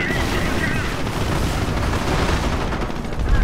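Artillery and gunfire from the World War II strategy game Company of Heroes, a dense continuous barrage of booms and rattling shots with no pauses, loud and close.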